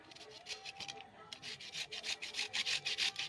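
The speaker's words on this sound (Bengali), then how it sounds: "এইভাবে পেঁপেগুলো ঘষে নেব" Papaya being grated by hand in a home kitchen, a steady series of close, rhythmic rasping strokes that grow louder and quicker toward the end, with no one speaking.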